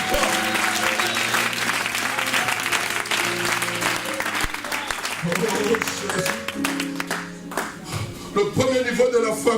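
Church congregation applauding and acclaiming God during a sermon: sustained, dense clapping with a busy crowd texture, accompanied by tonal keyboard or music underneath, loosening into scattered claps near the end.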